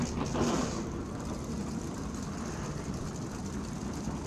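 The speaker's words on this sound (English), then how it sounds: "The sound of 600 horsepower modifieds for the Smart Modified Tour" Field of 600-horsepower modified race cars starting and idling together before a Smart Modified Tour race, a dense low engine rumble heard from a distance, steady with a slight swell at the start.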